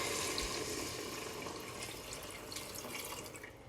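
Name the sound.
pouring water into a cooking pot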